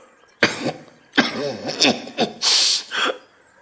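A person coughs repeatedly in harsh, close bursts, several rough coughs in a row followed by a raspy throat-clearing breath.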